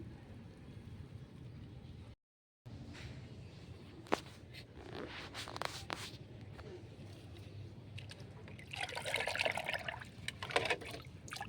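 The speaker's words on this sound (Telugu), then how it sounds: "ఇప్పుడు ఇందులో మనం వాటర్ పోసుకొని మొక్కలకి ఇచ్చుకోవడం." Water is poured onto garden plants, a faint, close trickle and dribble that swells into louder splashing bursts near the end, with no talk over it.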